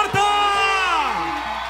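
Concert crowd in Santa Marta cheering for a singer, a loud sustained whoop with a voice sliding downward over the mass of shouts, close and dominant.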